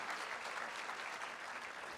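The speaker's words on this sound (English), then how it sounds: "Give a round of applause, guys." An audience applauds after a magic trick at a literature festival, a dense, even wash of clapping hands holding steady throughout, fairly faint and with no voices over it.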